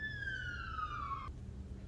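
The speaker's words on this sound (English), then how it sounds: "Oh, sirens. I feel like I'm in New York right now, all the sirens." Police and emergency sirens wail along a city street in Vancouver, a steady descending siren tone sounding clearly over constant traffic rumble before cutting off abruptly partway through.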